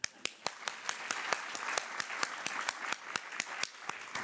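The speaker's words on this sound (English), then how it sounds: "begin applauding if you hear applause coming from this corner" Panel audience at a 2014 games funding forum claps in a sparse, steady rhythm of distinct individual hand claps, fairly faint and spaced about every quarter second.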